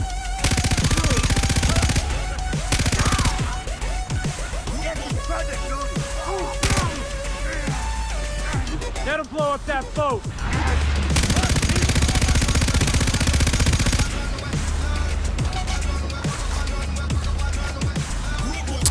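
A PKM machine gun in Far Cry 3 fires loud sustained bursts layered over dense game music and effects, continuous and close for nearly the whole stretch.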